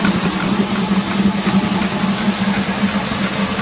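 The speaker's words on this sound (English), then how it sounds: "VR6 engine, 6 liter, plenty of power" Steady idle-like drone of a 2006 Air Nautique 226 Team Edition ski boat's 6-liter VR6 engine running on Millerton Lake, a constant low hum with broadband rumble, loud and close with no talk.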